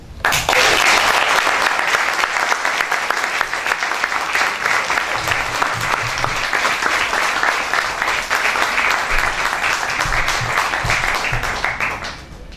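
An audience at a Creole cultural evening in Le Port, La Réunion, gives a sustained, loud round of applause that carries on steadily for about twelve seconds before easing off.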